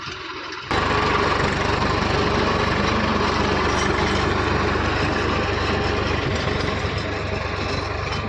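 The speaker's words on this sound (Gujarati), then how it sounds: "ધમ ધોકાર હાલે છે આપણું ટ્રેક્ટર" A tractor engine starts and then runs loudly and steadily, a continuous rumbling drone that fills the whole stretch with no voices.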